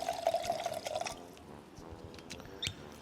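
Spirit poured into a cocktail glass for a Christmas cocktail, a close steady liquid trickle for about a second, then stopping, followed by quiet room noise and a faint clink.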